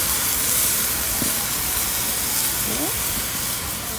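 Marinated beef tri-tip sears on a grill with a steady, broad hiss that holds evenly throughout, close and without talk.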